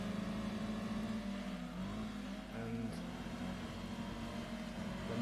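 Racing car engines in Gran Turismo 2 during an Elan Trophy race, a sustained mid-pitched engine drone with shifting revs, steady and moderately loud throughout.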